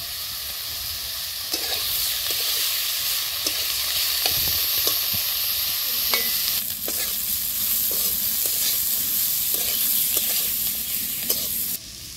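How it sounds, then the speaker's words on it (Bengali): Sliced bitter gourd frying in hot oil, a continuous close sizzle with scattered clicks and scrapes of a spatula stirring the pan, no voices. "করলাটা হালকা করে ভেজে নিয়ে এগুলো দিয়ে দিচ্ছি।"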